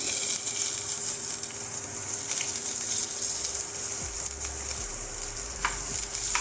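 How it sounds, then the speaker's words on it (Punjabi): Finely chopped ginger hitting hot oil with plenty of tempered cumin seeds, for a cumin-spiced taro curry: a loud, steady close sizzle with occasional stirring scrapes underneath. "ਜੀਰਾ ਤੜਕਿਆ ਗਿਆ ਹੁਣ ਅਸੀਂ ਇਹਦੇ ਵਿੱਚ ਬਰੀਕ ਕੱਟਿਆ ਹੋਇਆ ਅਦਰਕ ਨੂੰ ਪਾ ਦਵਾਂਗੇ"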